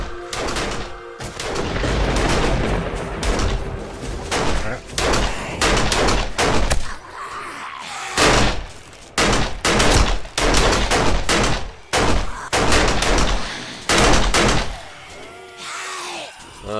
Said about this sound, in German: Jetzt schießt er nochmal.